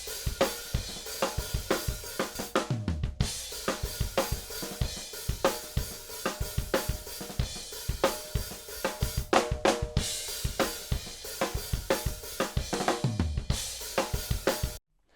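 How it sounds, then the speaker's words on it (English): A mixed multitrack drum kit recording plays back with a busy rock groove of kick, snare and cymbals, dense rhythmic hits with occasional fills and crashes, full and loud, ending abruptly. "We've got a standard drum recording"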